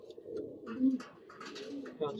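Pigeons cooing close by in a loft of tournament racing pigeons, including a black-necked bird, with low soft coos running throughout and a few sharper calls, partly under a voice talking.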